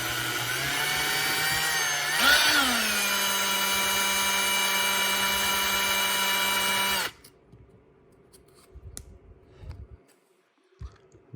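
A power drill whines steadily at close range while slowly enlarging a hole in a lightsaber hilt, with a brief pitch bump early on, then it stops and light handling clicks follow.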